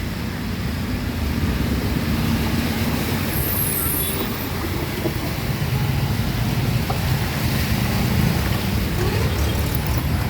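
A steady, dense wash of floodwater rushing through a street in Pune, with low rumble underneath, continuous and fairly loud throughout.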